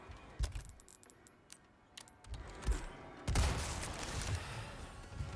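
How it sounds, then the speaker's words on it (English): Bolt-action rifle gunfire in the Resident Evil 4 Remake video game: several sharp game shots at moderate level, with one heavier blast near the middle followed by a sustained noisy tail. "Had to adapt and finish him off with the bolt action."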